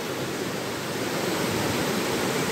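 A small waterfall in Scotland pours into a pool at its base, a loud, close, unbroken rushing roar of falling water without voices.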